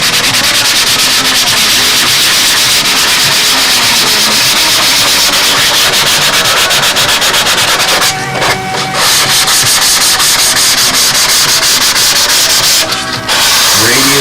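Sandpaper is rubbed by hand over a doped model airplane surface, a loud, close, continuous rasping scrub with quick rhythmic strokes, broken by two brief pauses.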